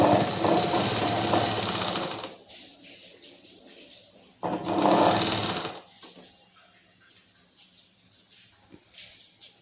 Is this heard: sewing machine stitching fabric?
yes